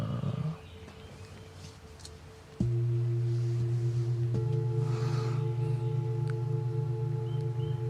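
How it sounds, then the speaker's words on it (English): Deep, sustained flute tones, part of a healing sound session recorded with four microphones, enter abruptly after a brief quiet stretch and hold steady as loud, layered drones through to the end. "And then when the flute goes off,"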